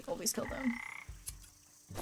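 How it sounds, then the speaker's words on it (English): Frogs croak in the video game Wytchwood, a few short throaty croaks heard close under a speaking voice, with brief pauses between. "There's a lot of frogs right now"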